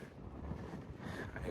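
Low, blustery wind rumbles and buffets close by at the top of a cold mountain climb on the Appalachian Trail in North Carolina, with soft gusts rising and falling and no one speaking.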